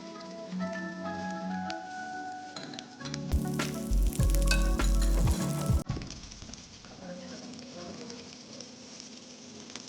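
Vegetables and zucchini fry in a pan for a cheesy penne dish, a soft sizzle and hiss running throughout, with a louder, brighter burst of frying in the middle and a faint stirring scrape.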